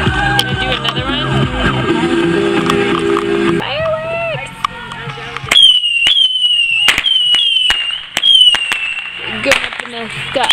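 Fireworks go off in a rapid series of sharp bangs and crackles with high whistling screamers, following a stretch of music and a voice.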